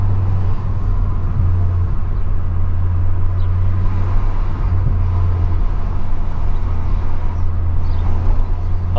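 A Ford Focus RS Mk2 on Michelin tyres cruises along with a window down, giving a steady, continuous low engine and road drone with no one talking.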